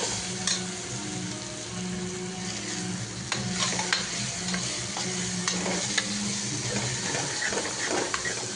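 Fennel powder sautéing in a pan for Tamil mutton kuzhambu: a steady close sizzle of frying, broken by repeated scraping stir strokes, with no talking.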